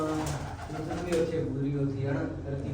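Low, soft pigeon coos repeat nearby, mixed with a background voice and steady room noise.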